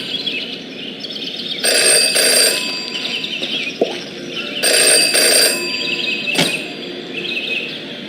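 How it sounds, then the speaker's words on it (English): A telephone rings in the video game Jenny LeClue, two long bright ringing bursts separated by a pause, loud and close over a quiet ambient backdrop with faint bird-like chirps. "Jenny had learned never to ignore a ringing phone."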